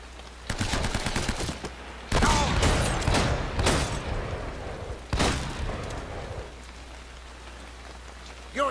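Gunfire during a firefight in the video game Uncharted: Drake's Fortune, El Dorado chapter, comes in loud rapid volleys: a short burst, then a longer sustained barrage, then one more clustered burst before things quiet down.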